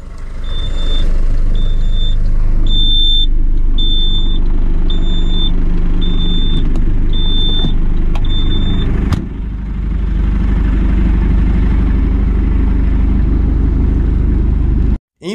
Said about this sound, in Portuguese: Então deu certo, atravessamos e agora vamos embarcar o carro.